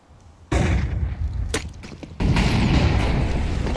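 A barrage of grenade utility in a Counter-Strike match: a sharp burst of blasts starts abruptly, followed by a brief crack and then another loud, sustained rumble of explosions.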